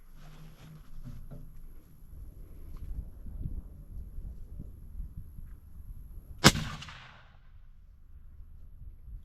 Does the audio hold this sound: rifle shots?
yes